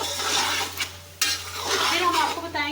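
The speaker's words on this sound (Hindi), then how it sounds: "अब 2 से 3 मिनट हम इसको अच्छे से भूनेंगे इसके अंदर।" Bannu beef pulao being stirred and fried in a pot, loud close sizzling with scraping strokes of a spoon and a brief pause before the stirring resumes.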